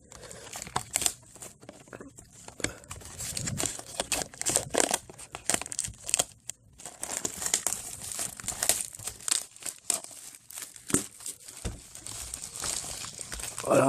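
Paper seal being torn and crinkled off a sealed trading card display box, a continuous dense run of crackling, rustling and tearing noises close to the ear for the whole stretch, with no talk.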